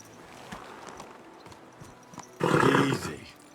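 Hooves clip-clop at a steady trot in Kingdom Come Deliverance 2, with a louder burst of galloping and a horse's snort near the end, fairly close.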